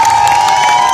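Audience at a comedy stage show cheering and clapping, a short loud burst of crowd noise with a sustained tone underneath.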